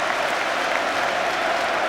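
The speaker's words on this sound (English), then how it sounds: "Thunderous applause for Phillips" Thunderous applause from a football stadium crowd at a Sunderland versus Sheffield United play-off semi-final, a loud, dense, continuous roar of clapping and cheering that stays even throughout.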